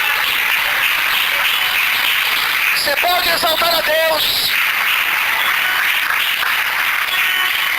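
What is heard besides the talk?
church congregation applauding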